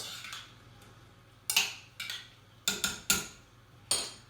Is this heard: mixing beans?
yes